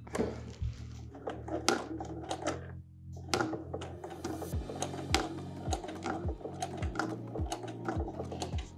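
Sewing machine stitching thick fabric during an IKEA kids Poäng chair makeover, a rapid mechanical clatter of needle strokes with a low motor hum and irregular knocks, close and fairly quiet, pausing briefly partway before resuming.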